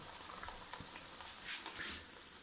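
Small beignets fry in hot oil, giving a soft, steady sizzle with faint crackles and bubbling pops close by, fairly quiet throughout.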